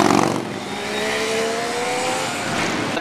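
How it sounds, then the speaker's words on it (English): A motorcycle engine revs and roars past at speed, a steady mechanical drone that rises and fades over a few seconds. "That is a motorcycle."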